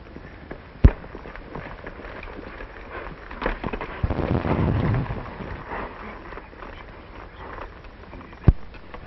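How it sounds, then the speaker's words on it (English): Two sharp, loud bangs a few seconds apart, like gunshots, against rustling outdoor background noise. "when you take your finger off, the gun should go bang"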